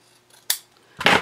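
Scissors trim a sewn fabric seam with two crisp snips, a short one and then a longer slicing cut, close and clear.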